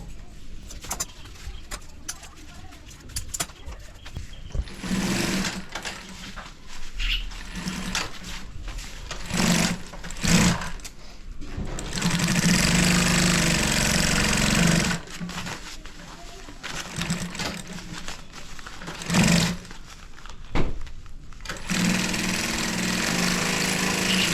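A sewing machine stitches a women's handbag, its motor whirring in bursts of varying length with short pauses between runs, fairly loud and close, with no talking.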